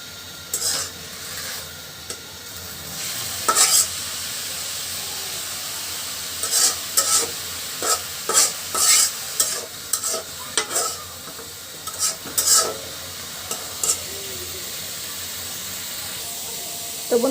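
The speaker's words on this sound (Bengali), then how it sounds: "এটা আমি খুব সুন্দর করে রসুন পেঁয়াজ কাঁচামরিচ সঙ্গে মাখিয়ে নিব।" Leafy greens stir-fried in a pan with garlic, onion and green chili, a steady close sizzle and hiss broken by repeated scraping stirs of the spatula against the pan.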